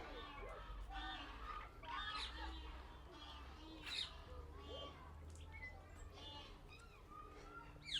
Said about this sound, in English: Here we have several varieties of parakeet.